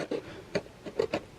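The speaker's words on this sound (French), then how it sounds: "On peut prendre aussi des petits ciseaux pointus, ça coupe bien." Small pointed scissors cut cardboard in a few short crisp snips, close and fairly quiet, with brief pauses between the cuts.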